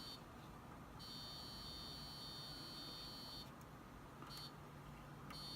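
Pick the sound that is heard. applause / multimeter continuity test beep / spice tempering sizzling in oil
multimeter continuity test beep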